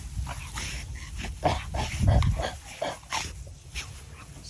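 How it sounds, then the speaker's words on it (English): A pet dog whimpers and yips in short whiny bursts aboard a boat, close and moderately loud, the cries rising and falling in a broken rhythm. "Silly dog."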